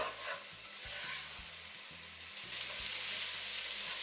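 Mixed vegetables with salt and lemon juice cook in a pan for Bangladeshi-style fried rice, giving a soft, even sizzle with faint stirring, quiet and close throughout.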